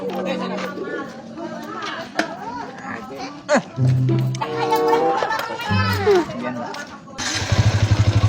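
After a stretch of chattering voices, a motorcycle engine kicks into life near the end, its close, loud engine putting out a rapid pulsing throb.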